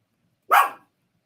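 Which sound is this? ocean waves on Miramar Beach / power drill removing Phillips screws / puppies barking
puppies barking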